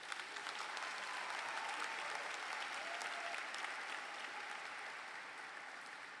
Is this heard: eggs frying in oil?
no